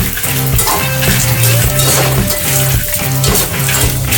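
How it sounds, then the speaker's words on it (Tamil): Whole spices for sambar rice dry roasting in a pan over a medium flame, with a loud, close, continuous scraping and stirring rattle of a spatula against the metal and light crackling throughout. "இப்போ இது எல்லாத்தையும் நம்ம நல்லா வறுத்து எடுத்துக்கலாம்."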